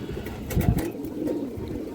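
Silver Beji pigeons coo in low, throaty rolling calls close by, with a murmur of other birds and room noise continuing underneath.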